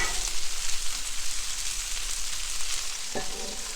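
Food sizzles in real butter on a Blackstone griddle, a steady close frying hiss throughout with a light knock or scrape near the end.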